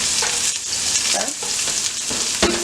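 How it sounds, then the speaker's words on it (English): Chopped onion sizzles steadily in a hot pan, a continuous loud frying hiss broken by a few scraping stirs of a spoon, with no voices. "Then you're gonna fry it just a little bit for a little until it turns translucent."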